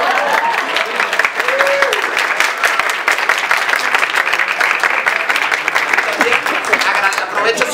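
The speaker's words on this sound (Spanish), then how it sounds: "Y aplausos." Audience applauding at a plaque unveiling for a short-theatre season, a dense, steady patter of clapping hands filling the room for several seconds, with a few voices calling out faintly underneath.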